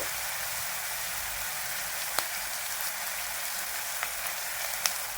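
Curry leaves crackle in hot oil while mango pulihora is cooked: a steady, close hissing sizzle with a few faint pops and no talking.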